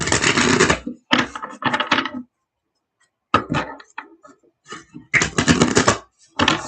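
An oracle card deck is shuffled in several quick, crisp bursts of riffling and flapping, close and fairly loud, separated by short pauses.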